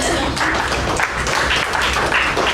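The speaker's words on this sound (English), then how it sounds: "Let's give a huge round of applause to Devraj" A loud, close round of applause at a Toastmasters meeting after a speech, brisk continuous clapping from a roomful of members with some voices mixed in.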